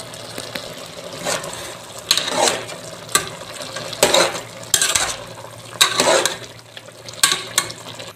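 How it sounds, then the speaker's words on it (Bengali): Malabar spinach and rohu fish stirred in a pot: a spatula scrapes and clatters in repeated bursts against a soft simmering hiss, close by, with pauses between strokes. "ঢাকনা তুলে নিয়ে আমি একটু নাড়া দিয়ে দিচ্ছি, দেখতেছি শাক সিদ্ধ হয়েছে কিনা"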